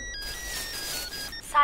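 A telephone rings as a pizza shop call is put through, with a steady electronic ringtone carrying through most of the moment and a brief chirp near the end.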